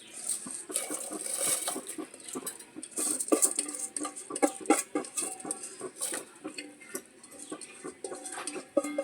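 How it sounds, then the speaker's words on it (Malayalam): Washed, drained raw rice poured into a simmering pot in a home kitchen, a series of close rattling patters and metallic clinks of utensils against the pot, irregular bursts with short pauses between them. "ഒന്ന് സിമ്മിലാക്കിയതിന് ശേഷം അരി ഇട്ട് കൊടുക്കാം"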